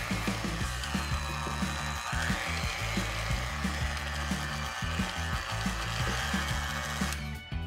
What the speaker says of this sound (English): Mix all that together until it's well combined and no streaks of those dry ingredients remain.